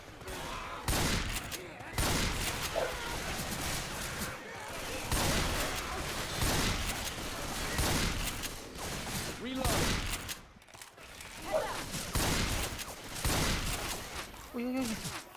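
Repeated bursts of gunfire in the zombie shooter Left 4 Dead 2, with shotgun-style blasts coming in rapid clusters through the whole stretch, loud and near, mixed with game noise and players talking over it.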